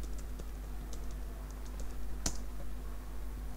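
Soft, irregular clicks of computer keys being typed, with a faint steady hum in the background and no voices.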